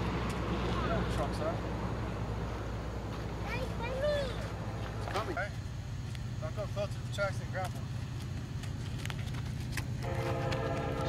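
A Union Pacific freight train hauling refrigerator cars and containers passes in Maricopa, Arizona, its horn blaring over the constant rumble of wheels, with people talking nearby.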